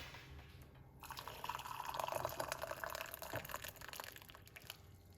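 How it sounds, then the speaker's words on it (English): Hot water pours steadily into a cup, a bright trickling splash that rises and then tapers off after a few seconds. "We're going to put hot water."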